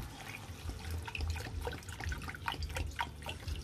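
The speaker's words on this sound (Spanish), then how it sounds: "Y después de esto echo agua" Water is poured into a pan of mackerel escabeche while cooking, a close, steady splashing and trickling with no talk.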